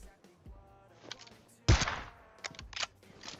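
Gunfire in a PUBG Mobile match, with one loud, sharp report standing out among a few fainter shots and in-game noises.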